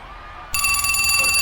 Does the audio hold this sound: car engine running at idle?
no